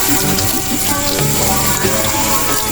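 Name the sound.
rinsing kale leaves under cold tap water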